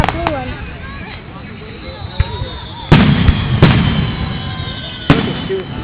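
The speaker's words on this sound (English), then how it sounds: "Just make sure it shows the fireworks." Fireworks burst outdoors, several sharp booming reports scattered over a few seconds, with people chatting and reacting throughout.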